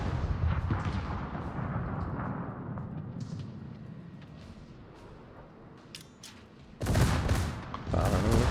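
Naval gun shells fire from a warship in World of Warships as heavy booming salvos with rumbling decay, then sharper loud blasts near the end, with no talking.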